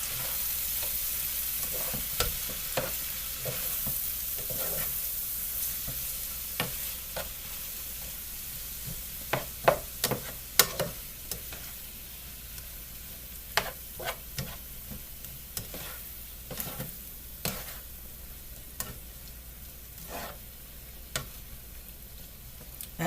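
Chayote chowder mixture with tomatoes sizzling gently in a pan while a spoon stirs it, soft steady frying hiss with intermittent scraping and clicking strokes, quiet and close.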